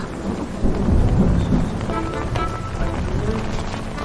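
Steady rain hisses and patters on surfaces while low thunder rumbles underneath in a period Chinese drama scene, a dense continuous wash that swells slightly early on and holds, with no voices.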